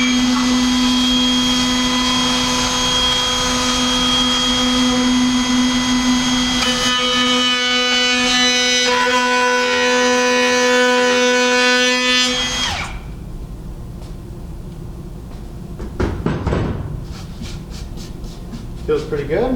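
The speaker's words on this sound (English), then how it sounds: "There is a kickback feature on this router specifically." A router cuts along the edge of a wooden face frame with a loud, close, high-pitched whine for about twelve seconds, then the motor winds down, leaving quieter clamp and handling knocks while a person talks.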